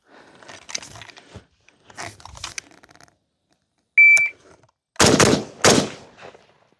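An SKS rifle fires in a Mozambique drill: three loud, close shots in quick succession, preceded by quieter clicks and handling noises and a brief electronic beep.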